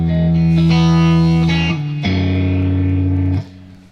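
Distorted electric guitar part: a heavy low E strum rings out, then a second strummed chord with plucked strings sustains before cutting off, loud and close with effects-laden tone.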